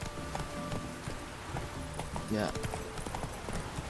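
The horse Roach gallops in the video game The Witcher 3, its rhythmic hoofbeats running quietly under game ambience, with a voice speaking briefly over it.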